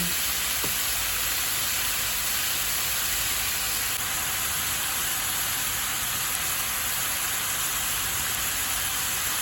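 Unripe jackfruit sautéing in a pan for ginataang langka gives a steady, loud, close-up sizzle with broadband hiss, continuous throughout and without speech.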